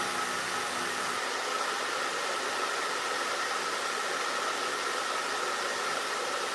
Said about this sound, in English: because I'm not moving the diffuser around a ton, it's not going to create unnecessary frizz.